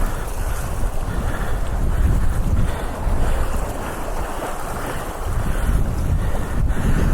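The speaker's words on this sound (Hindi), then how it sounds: "पानी का प्रेशर बहुत तेज है।" Fast, strongly flowing river water pushes past during an off-road motorcycle outing, giving a loud, steady broadband rush with buffeting wind noise on the microphone and no talk.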